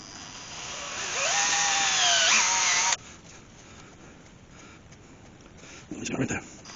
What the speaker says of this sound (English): 2-3mm drill.